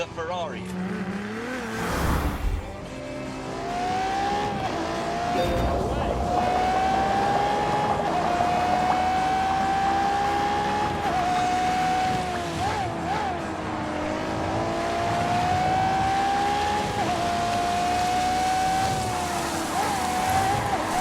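A Ferrari races hard in The Grand Tour Game, its engine screaming loud and close with steady high revs that climb and drop through gear changes, after a brief thump early on, with talk heard over the engine.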